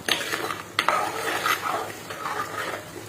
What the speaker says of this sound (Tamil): கருப்பு உளுந்து நல்லா பொறிஞ்சு வாசனை வர வரைக்கும் வதக்கிக்க வேண்டியதுதான்